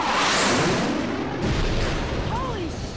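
Bombing explosions in the game Left 4 Dead 2 rumble as a loud, continuous roar of blasts and booms, with a whooshing sweep near the end.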